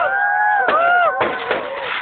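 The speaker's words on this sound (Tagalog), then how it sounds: "Diyan lang paputok namin, no?" Firecrackers going off at a New Year 2008 celebration: sharp bangs at close range over sustained whistling, gliding tones, with the noise continuous throughout.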